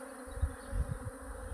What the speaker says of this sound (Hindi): ये देखो पूरे हाथ में चारों तरफ मधुमक्खी ये बैठी हुई है